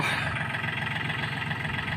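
A Yanmar 39 farm tractor's engine idles steadily and loudly up close, a constant throbbing diesel rumble with no change in speed and no talk.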